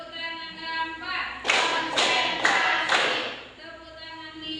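Hand clapping in a school classroom lesson, four sharp claps in a quick even rhythm rising over a sustained musical tone.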